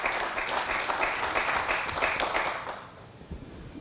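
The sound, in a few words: audience applause after a conference talk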